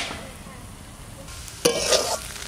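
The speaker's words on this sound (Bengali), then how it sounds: "কি সুন্দর ভাজা হচ্ছে" Radish greens frying in a pan with a soft steady sizzle, then a sharp scrape and clatter of a spatula stirring them, followed by louder sizzling, close and brief.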